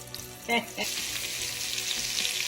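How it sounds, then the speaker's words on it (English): Butter melts into hot bacon fat in a pot, giving a continuous close sizzle with a brief clunk near the start, no voices. "we're going to add our butter to our bacon fat"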